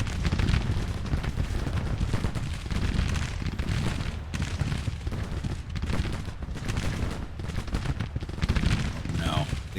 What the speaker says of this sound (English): Entire brigade firing.